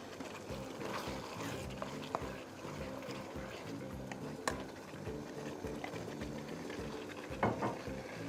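Vegetable mix tipped into a hot pan for a dhaba-style mixed sabzi, with a soft sizzle and bubbling under scraping and stirring that carries on steadily, broken by a few sharp clinks of the utensil against the pan.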